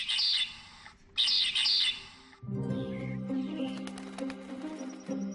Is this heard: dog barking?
no